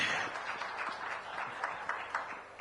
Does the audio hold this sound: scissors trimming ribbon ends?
no